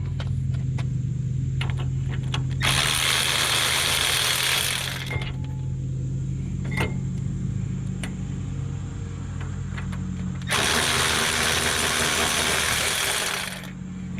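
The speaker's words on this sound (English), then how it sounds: "I'll come back when I get them loose enough to use my battery ratchet." Battery ratchet removing hub bolts on a stubborn wheel hub, two sustained whirring bursts of a few seconds each, loud and close, with a low engine-like hum and small clicks between them.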